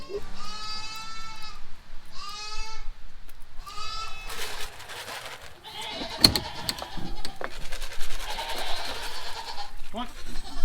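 A goat on a farm gives three loud, close, nasal bleats in quick succession, followed by rustling, shuffling and clattering noises.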